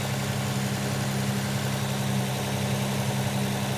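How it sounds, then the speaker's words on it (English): Ford Capri 280 Brooklands engine idling steadily with a low, even hum as the revs gradually settle, heard alone at moderate level. "You can hear the revs are just gradually dropping"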